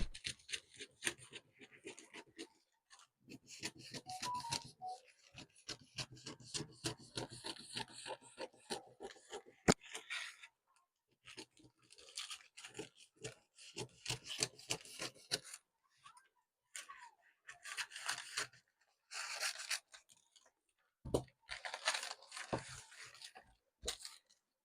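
Scissors cutting through suit sleeve fabric along a pattern, steady rasping snips in bursts with short pauses, close and clear with no talking.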